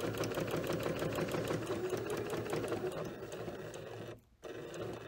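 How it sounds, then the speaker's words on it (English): A sewing machine stitches a quarter-inch seam along the curve of a Flower Garden quilt block, running as a fast, continuous rhythmic whir up close, briefly stopping near the end. "sewing a quarter inch."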